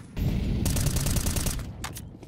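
Gunfire in the video game Counter-Strike 2: a dense, loud burst of rapid automatic shots, followed by a couple of separate single shots near the end, with no talking over it.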